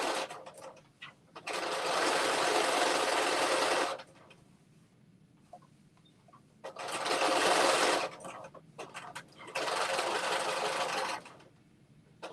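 A sewing machine with an edge foot stitching fabric runs in three steady bursts of fast, whirring needle action, close and loud, separated by short quiet pauses.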